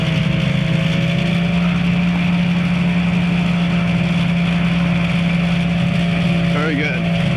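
Steady, loud drone of a small airplane engine taxiing on grass with a little more throttle, running continuously throughout with a strong low hum, while a voice talks over it.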